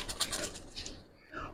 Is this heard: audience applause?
no